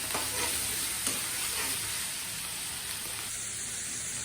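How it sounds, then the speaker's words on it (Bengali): Garlic paste and green chili paste sautéing in a pan for a bitter gourd and potato curry, a close, steady frying hiss with soft stirring scrapes early on, then an even sizzle. "এখন দিয়ে দিচ্ছি রসুন বাটা, কাঁচামরিচ বাটা দিয়ে ভালো করে কষিয়ে নিচ্ছি।"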